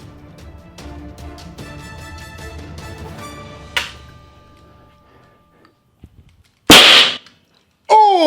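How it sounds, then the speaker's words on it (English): Airsoft Innovations grenade fitted with an XL burst element goes off with a single sharp, loud bang after a stretch of quiet, followed by a brief ringing burst of noise. "it will just burst and you'll get a louder bang."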